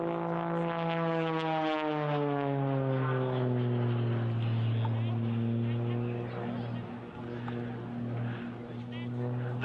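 An Extra 330sc aerobatic propeller plane drones loudly overhead during an air display, its engine pitch sliding steadily down and then holding, with a commentator talking over the noise.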